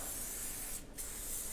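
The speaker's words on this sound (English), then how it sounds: "mold spray so you make sure that it will not stick our waffle" A can of non-stick mold spray hisses in a steady burst onto a waffle maker, briefly pausing mid-spray, close and alone.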